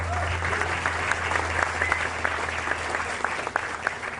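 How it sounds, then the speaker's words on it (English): Applause from an audience at a TriMet transit grant event, steady and fairly close, with a few sharper claps standing out and a low hum underneath. "Another round of applause to Doug and the TriMet board."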